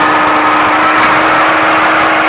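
A Baja race truck's engine runs loud and steady at speed, a dense continuous roar with a constant tone and no break, as the throttle stays open.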